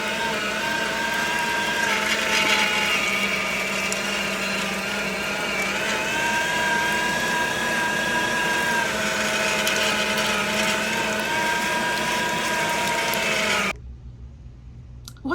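Electric meat grinder running steadily as pork is fed through a second time for sausage, a loud continuous motor whine with a whirring mechanical drone that holds for most of the clip, then cuts off abruptly near the end.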